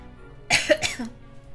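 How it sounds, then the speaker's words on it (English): Two soft, gentle coughs come in quick succession, close and clear against near silence, from the video game Monster Loves You. "Cough gently."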